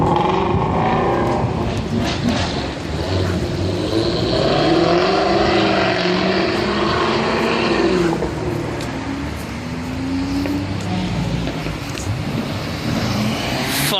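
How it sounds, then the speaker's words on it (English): A Corvette revs its engine at an outdoor car show, its rising and falling revs carrying over a steady rumble of nearby traffic and crowd for about fourteen seconds. "that's the Corvette revving its engine."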